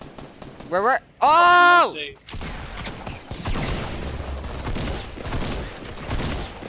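Fortnite squad match gunfire: a dense burst of rapid shots follows a loud in-game tone, with close, continuous firing lasting several seconds after a player shouts.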